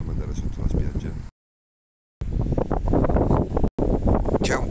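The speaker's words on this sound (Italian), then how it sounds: "C'è un po' di vento, c'è." Steady wind buffets the microphone on a beach at Corralejo, Fuerteventura, Canary Islands, with a broad rushing roar, briefly cutting out before gusting again.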